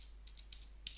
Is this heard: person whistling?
no